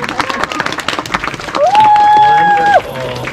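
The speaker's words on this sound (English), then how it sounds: "applause." An outdoor audience claps for the rangers and sled dogs at a Denali National Park kennel demonstration, a short burst of applause mixed with crowd chatter and a whistle-like tone near the end.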